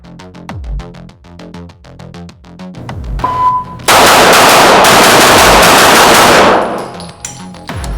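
Rapid pistol fire from a Rost Martin RM1C at a shooting test: loud, close sharp shots in quick runs, with a fast burst of overlapping reports and ringing echo, no talking.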